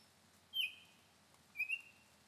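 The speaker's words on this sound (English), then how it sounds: "It's the Baltimore Oriole." Two short, clear whistled phrases from a Baltimore Oriole, about a second apart, sounding faint against a quiet background with no voices.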